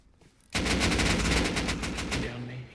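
Gunfire from the video game Rust bursts in abruptly as a rapid, sustained string of loud shots, close and dense, tapering slightly toward the end.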